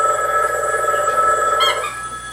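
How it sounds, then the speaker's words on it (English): A telephone in a film rings loudly with a bright, trilling bell tone that holds steady for about two seconds and then cuts off, with no talk over it. "Scenes when phones start to ring."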